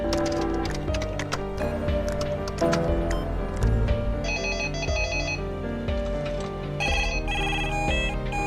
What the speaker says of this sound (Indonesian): Kemudian dia membuat seluruh telepon di kantor Detektif Ken berdering bersamaan.